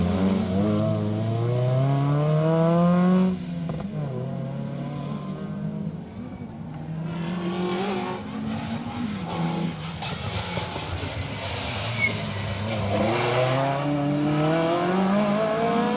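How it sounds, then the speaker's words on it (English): A Citroen AX rally car races along a stage at Rali Menai, its engine revving hard with rising and falling gear-shift sweeps, loud and close, tyres working through the bends, with no talk. "Gareth Roberts and Harry Stubbs in their Citroen AX"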